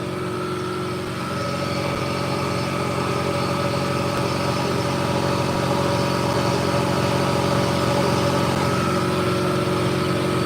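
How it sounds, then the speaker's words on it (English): Air compressor running steadily in a home garage, a continuous motor hum with a constant droning tone that holds unbroken throughout, fairly loud and alone. "Give me a second till that air compressor shuts off."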